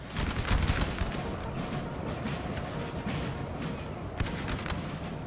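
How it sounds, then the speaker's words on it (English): Dense, continuous rumbling battle noise from artillery fire in Napoleon Total War, with a broad roar and occasional sharper distant booms, no voices over it. "the artillery is starting to hit this poor French line"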